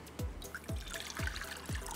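Water pours into a cooking pan with oil for pão de queijo dough, a soft steady trickle broken by four evenly spaced low glugs.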